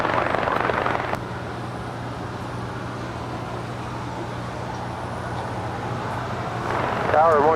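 Hawaiian Airlines Airbus A330 taking off on runway 24 left at LAX, a broad steady jet roar heard from a distance, swelling louder toward the end.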